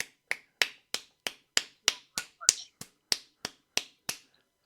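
Crisp single claps in a slow, regular rhythm, about fourteen evenly spaced sharp smacks, close and alone with silence between each.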